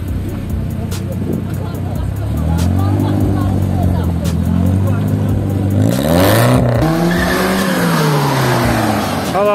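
A BMW and a Mercedes rev their engines in a challenge, the pitch climbing and falling in repeated surges with a tyre squeal near the middle, loud and close, while people talk.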